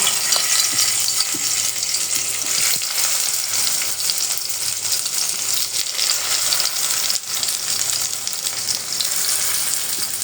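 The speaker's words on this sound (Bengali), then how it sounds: "এখন আস্তে আস্তে সুন্দর করে বড়াগুলা ভাজবো।" Gourd-leaf dried fish fritters frying in a little oil in a pan, a steady bright sizzle that carries unbroken and close throughout, with faint scrapes and small clicks now and then.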